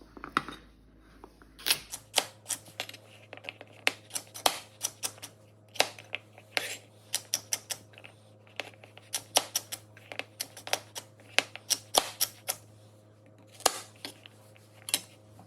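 A knife chops baby carrots on a cutting board in quick, irregular knocks, a few at a time, close and crisp over a low steady hum.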